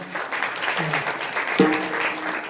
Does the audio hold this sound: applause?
yes